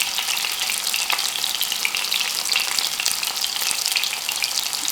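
Prawns fry in hot oil in a pan, coated with mint, green chilli and curry leaves, giving a loud, steady, close sizzle with crackling pops throughout and no voices.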